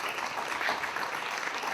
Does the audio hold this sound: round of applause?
yes